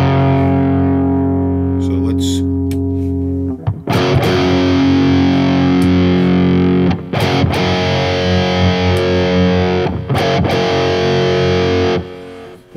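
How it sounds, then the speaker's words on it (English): Heavily distorted electric guitar chords through a high-gain Fuego X 15-watt tube amp ring out loud and sustained, with a few abrupt chord changes and brief gaps between them. "this has more distortion. It is a higher gain stage amp."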